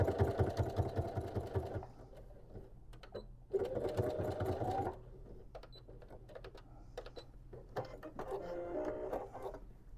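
A sewing machine stitches a tote bag in two short fast bursts of rapid mechanical clatter, with quieter handling noises between them and a softer run near the end, all fairly close.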